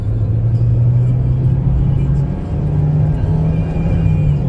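A 2007 Chevrolet Optra 1.6 LS with a manual gearbox accelerates in second gear on a main road, its engine giving a loud, steady rumbling drone that rises slightly in pitch, with no talking.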